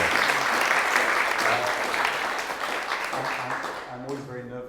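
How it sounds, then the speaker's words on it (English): A seated audience applauds loudly and steadily after a speaker's introduction, dense clapping that fades slightly near the end as a voice begins speaking. "I'm always very nervous if you clap at the beginning"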